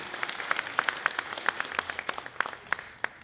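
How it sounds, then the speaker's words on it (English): Applause from an evening pageant finals audience in New Zealand, a fairly faint, scattered round of individual claps with uneven rhythm and no voices over it. "Big round of applause for that massive list of sponsors."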